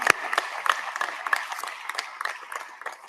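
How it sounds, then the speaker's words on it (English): Parents at a military graduation ceremony are applauded, with scattered clapping from a crowd running steadily for about three seconds at moderate level, thinning slightly toward the end. "Let's give you guys a huge round of applause."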